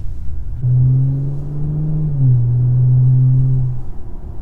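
Acura MDX Type S fitted with an ATLP active exhaust in normal mode, giving a steady low droning rumble that rises briefly mid-way, then holds before tapering off, close and fairly loud with no talking.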